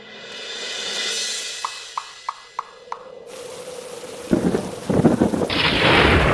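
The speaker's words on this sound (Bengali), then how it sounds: "এই তো ঝড় বৃষ্টি শুরু হয়ে গেল" Thunder cracks several times in sharp succession, then heavy rain bursts in and roars loudly, drumming steadily on surfaces.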